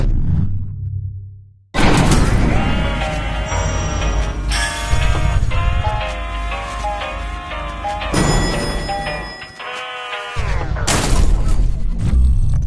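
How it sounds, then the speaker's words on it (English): Explosions and a musical sting from the party video game Trivia Murder Party 2, played on PS4, with a loud booming burst followed by a bright, layered tonal flourish, then a sudden second blast near the end. No one talks. "Explosions really are the best outcome for this game."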